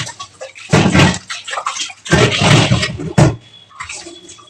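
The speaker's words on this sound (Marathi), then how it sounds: "पितळेच्या टिपामध्ये भरून ठेवलेले होते त्याच पाण्याने धुवून घेतले" Copper and brass household pots are rinsed with water stored in a brass vessel, heard as loud close bursts of pouring and sloshing water in short separate gushes.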